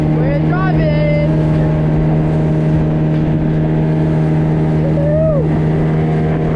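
A motorboat running on an estuary while fishing: a loud, steady engine drone fills the whole stretch, with rising whines as it revs, and voices call out over it.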